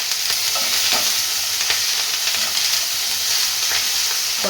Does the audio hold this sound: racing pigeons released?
no